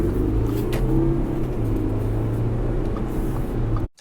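A 2015 Audi Q5 with a 3.0L V6 TDI diesel engine hums steadily at a low idle-like drone, close and even for several seconds before cutting off abruptly.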